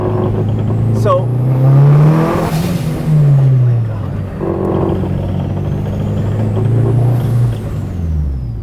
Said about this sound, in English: it accelerates so hard that I get a moment of vertigo